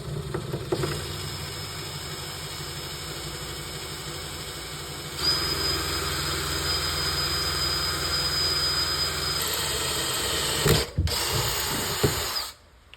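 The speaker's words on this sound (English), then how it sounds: "we're going to start with this drill bit in the center of this bolt, and we're going to drill all the way through it" A drill bit bores straight down through the center of a stripped brake rotor bolt, a steady mechanical whir holding close and continuous, intensifying partway through before cutting off near the end; no one speaks.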